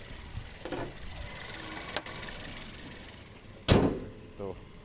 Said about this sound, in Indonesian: Langsung rapet dia ya, jadi sekali banting langsung rapet.